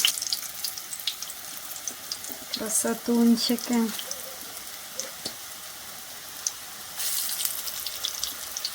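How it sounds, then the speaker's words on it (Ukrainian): Potato zrazy fry in a heated pan, giving a continuous crackling sizzle that runs throughout, while a person speaks briefly over it. "У мене сковорідка підогрівається, і тож я смажу зразу."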